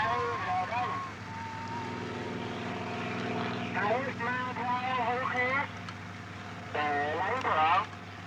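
A helicopter flies over Vietnam in 1967, a steady low rotor and engine drone running throughout beneath a voice talking and bursts of other voices.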